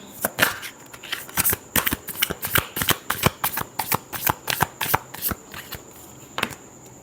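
Tarot cards being shuffled in a rapid run of crisp riffling and slapping bursts, close and steady throughout, with no talking.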